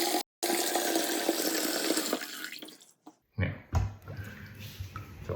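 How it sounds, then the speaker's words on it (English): Water draining out of a kitchen sink while a faucet is being replaced, a close rushing gurgle that fades out, followed by a few sharp clunks and splashy bursts of water. "So all that water's gonna go out the drain"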